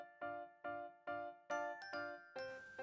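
A notification bell sound effect rings as a series of clear, bright metallic dings, about seven strikes in a steady rhythm, each decaying quickly, the last few slightly denser and brighter.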